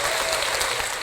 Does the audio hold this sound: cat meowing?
no